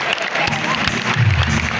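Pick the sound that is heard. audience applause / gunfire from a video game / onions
audience applause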